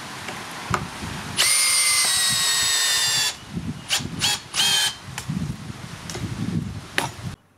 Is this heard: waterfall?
no